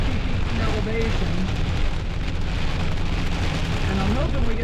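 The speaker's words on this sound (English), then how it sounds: "The hail is just crazy." Hail pounds on an RV in a mountain storm near Mount Rushmore, a dense, continuous roar of impacts with low rumbling beneath, loud and close throughout.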